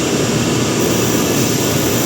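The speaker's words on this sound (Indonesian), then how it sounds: "sekarang udah on burnernya" An industrial Riello R40 GS5 gas burner for a steam boiler or oven fires steadily, a dense, loud, continuous roaring whoosh with no breaks and no voices.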